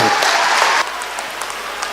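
Crowd applause welcoming Nitish Kumar at a rally in Begusarai, Bihar, a loud dense burst of clapping that drops abruptly after under a second into softer continuing claps.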